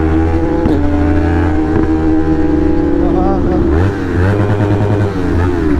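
Yamaha MT-03 motorcycle engine running loud and close on a road ride, with a steady drone that rises and dips as the throttle changes, under wind rush and someone talking.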